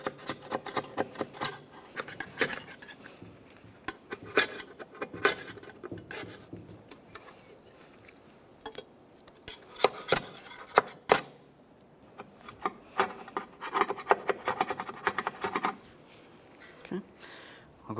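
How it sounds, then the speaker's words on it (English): Old intake manifold gasket being scraped off the engine of a 1994-2002 Dodge Ram 2500: repeated rasping, scratching strokes of a metal tool in uneven bursts with short pauses, close and fairly loud. "we're going to clean this up and remove all of the existing gasket."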